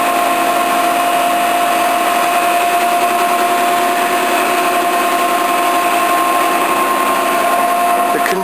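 A 1960 Webster & Bennett Model DH vertical turret lathe runs with a steady, loud mechanical hum and high whine that never changes, while a narrator talks over it throughout.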